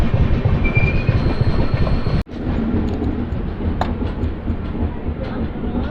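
The Janmabhoomi Superfast Express, number 12806, rolls through a station near Begumpet in Hyderabad, making a loud, continuous rumble of wheels heard from on board, with a brief sharp dropout partway through.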